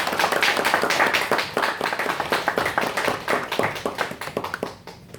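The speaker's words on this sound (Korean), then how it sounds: "한번 환영의 박수로 한번 모시도록 하겠습니다" Welcoming applause from a church congregation greeting a visiting missionary, a dense wash of many hands clapping that holds steady and then thins into scattered claps before fading out.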